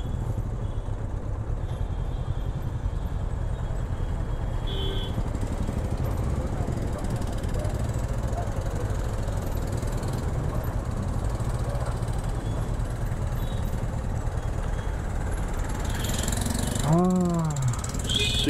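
A Honda NX500 motorcycle engine idles at about 1000 RPM with no throttle, a steady low rumble running continuously, with a brief rising mechanical whine near the end.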